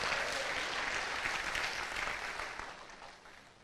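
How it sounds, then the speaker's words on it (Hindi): An audience claps loudly for a few seconds as a dense, even wash of hand claps that fades slightly toward the end, with no voices over it. "एक जोरदार तालियां होनी चाहिए आपके लिए"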